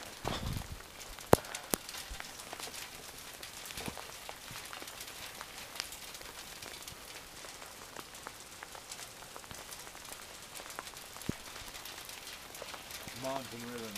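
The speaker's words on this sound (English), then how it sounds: "it's raining again" Rain pattering steadily on surfaces outdoors while someone walks near a mountain river, a dense continuous hiss with scattered sharper drops, and a voice briefly heard.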